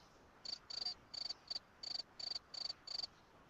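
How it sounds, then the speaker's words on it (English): Crickets chirp in short, rapid bursts, about eight pulses in a loose rhythm, clear and close against a quiet background. "It's a little crickets."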